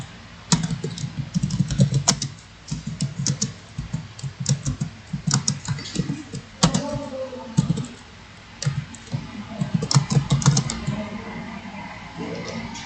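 Keys clatter on a computer keyboard as a command is typed to reveal files hidden by a virus on a flash drive, a steady run of close, crisp clicks with short pauses between bursts.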